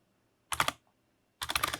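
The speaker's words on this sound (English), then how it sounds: "I can actually type in here scene break" Two quick bursts of typing on a computer keyboard, a handful of crisp close keystrokes each, separated by a brief pause in an otherwise quiet room.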